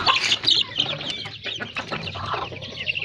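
Rhode Island chickens clucking in a coop where eggs are laid, close and fairly loud, a steady stream of busy clucks and calls with no talk.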